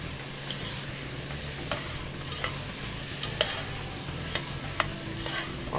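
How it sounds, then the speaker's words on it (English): Rice is stirred in a hot pan at the start of a risotto, a soft steady sizzle broken by light, regular scrapes and taps of a spoon against the pan, close and without speech. "So we're just going to add the rice now. All right. I'm going to stir that around."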